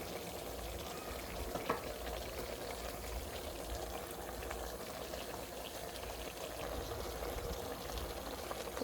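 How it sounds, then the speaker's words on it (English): Water poured into a pot of cooking vegetables for pongal, a steady soft rushing and bubbling wash that runs continuously and fairly quietly, with no talking. "Now we'll pour this water into vegetables."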